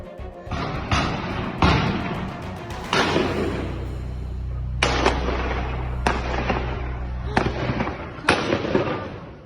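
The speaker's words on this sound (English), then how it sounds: "In the street by this synagogue in Russia's Dagestan region, gunshots ring wildly." Sharp gunshots crack out one after another at irregular intervals over a steady low rumble, echoing in an open street beside a synagogue in Dagestan, Russia.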